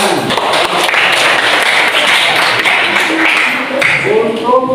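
Students clap in a classroom, a steady wash of hand claps that carries on throughout, with voices talking under and over it.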